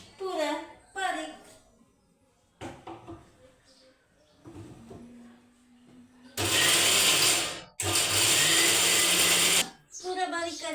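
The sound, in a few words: grinder grinding puris fine for besan ladoos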